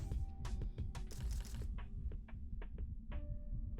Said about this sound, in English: Can you hear the heartbeat?